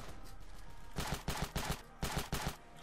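Gunfire in the video game Ravenfield during a desert battle: after a quieter stretch, several sharp, loud bursts of rapid shots hit in quick clusters, separated by short pauses.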